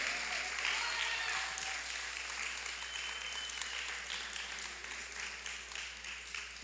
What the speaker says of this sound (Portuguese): Eu queria uma salva de palmas bem forte para a nossa presidente do PRD Mulher